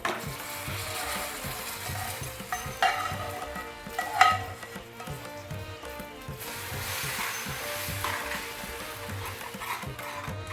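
Rabri with caramel is stirred continuously in a pan, a soft constant sizzle under repeated rhythmic scraping strokes, with a couple of brief metallic clinks.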